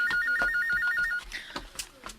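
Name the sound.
telephone ringing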